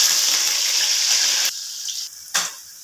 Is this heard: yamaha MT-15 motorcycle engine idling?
no